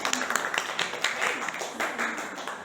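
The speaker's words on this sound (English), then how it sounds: "Clap hands for them." Children in a classroom clapping hands together for a group after a story presentation, a run of quick uneven claps of moderate loudness, with some voices mixed in.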